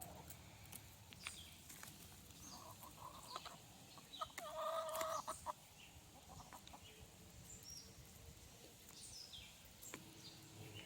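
Backyard flock of chickens clucking and murmuring as new chicks are mixed in with older birds, a steady low chatter of calls with one louder squawking burst in the middle, heard at moderate distance with no voices.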